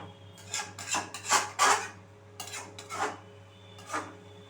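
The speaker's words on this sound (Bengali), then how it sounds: "সমস্ত জিনিস আমি খুব ভালোভাবে আমি এখানে আবারও মিশিয়ে নিচ্ছি" Chicken being mixed by hand-tool in a pot with coriander powder and spices for kasturi chicken, heard as a series of scraping, rasping stirs in uneven bursts, fairly close, with no talking.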